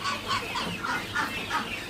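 Farm-raised chickens cluck in a steady, overlapping run of short calls at moderate loudness, with a busy coop murmur underneath throughout.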